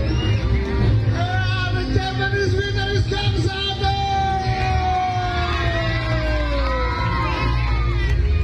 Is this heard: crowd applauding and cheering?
yes